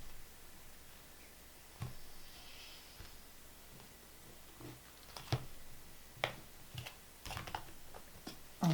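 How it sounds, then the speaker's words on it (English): Quiet, irregular crisp clicks and soft slaps of tarot cards being shuffled, scattered sharp taps over faint background hiss. "These cards don't want to shuffle."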